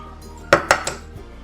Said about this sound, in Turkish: Şimdi içine yumurtaları ekleyeceğim.